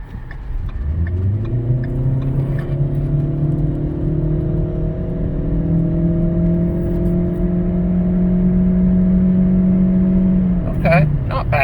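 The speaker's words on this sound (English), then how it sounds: "do our little 0 to 60 spot and get it up to some freeway speed" A 2013 Ford Fusion hybrid SE with a CVT accelerates from 0 to 60 toward freeway speed, heard from inside the car as a steady engine drone that rises slowly in pitch and holds, with road noise underneath and a brief clatter at the end.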